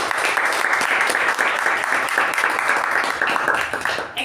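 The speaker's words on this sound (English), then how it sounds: "first all of us give a thunderous round of applause" A club meeting audience gives a sustained round of applause, dense and loud clapping from many hands filling the room without a break before tapering slightly at the end.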